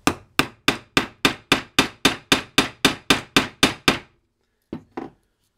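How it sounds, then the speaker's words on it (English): Fourteen sharp, evenly spaced hammer strikes setting a rivet with a tool, loud and close, followed by a pause and two softer taps. "I'm gonna rivet it quick"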